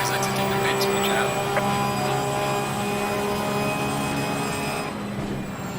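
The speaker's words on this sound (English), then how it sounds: "Cars exiting the pits, watch out." Race cars in the sim racing game Assetto Corsa Competizione near the pit exit give a loud, steady engine whine with sustained high tones that hold for several seconds before easing slightly near the end.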